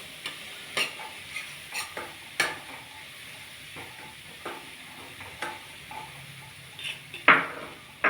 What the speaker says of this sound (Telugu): అది నూనెలో కొంచెంసేపు వేయించుదాం